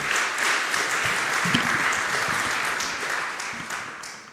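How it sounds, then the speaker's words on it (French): A conference audience applauds round-table panelists at a drone symposium, with brisk, dense clapping from a roomful of people that stays strong and then tapers near the close. "Nous pouvons donc les applaudir"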